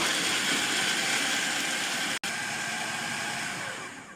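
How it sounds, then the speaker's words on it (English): A grinder whirs steadily as it breaks garlic and chilies into a rough texture, a loud continuous motor drone with a single brief cut near the middle. "I'm going to put the lid on, and we're going to grind this into a rough texture."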